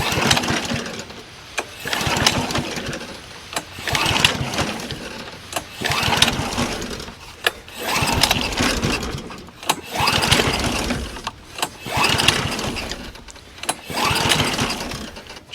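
Repeated pull-start attempts on a Honda-powered Kee commercial push mower fed non-ethanol fuel, each pull giving a near, loud burst of churning engine noise that dies back, in a steady rhythm of roughly eight tries.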